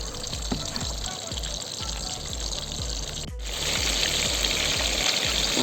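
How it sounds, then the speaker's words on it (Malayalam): Quail pieces deep-frying in hot oil, a dense, steady hiss of bubbling oil that swells slightly louder near the end, with a rhythmic musical beat underneath. "ഇതാകുമ്പോൾ എണ്ണക്കകത്ത് കിടന്ന് അങ്ങോട്ട് പൊരിയണ നോക്കിയേ"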